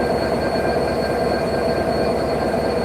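A train stands at Khulna station before leaving for Dhaka, giving off a loud, constant engine rumble and hum with steady high whining tones, unbroken and close, with no talking.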